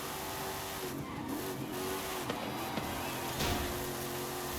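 A Chevrolet Silverado truck races through Forza Horizon 5 with a steady engine drone, tire squeals and skids breaking through, plus a few sharp impact clicks; loud and continuous for the whole stretch.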